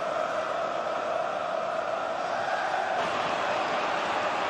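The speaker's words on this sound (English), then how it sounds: "Crowd wanting one last attack in the last few seconds of this fifth-round replay" A football crowd in a stadium during an FA Cup fifth-round replay between Huddersfield Town and Manchester City, roaring and cheering as one steady, dense wall of noise with no breaks.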